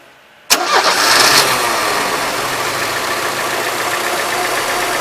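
A car engine cranks and catches after half a second of quiet, then settles into a loud, steady idle that runs to the end.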